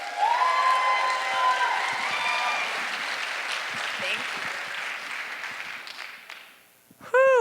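A live audience at an Ignite Denver event claps and cheers for a speaker, a dense wash of applause that slowly fades, and then a single voice speaks close to the microphone at the end.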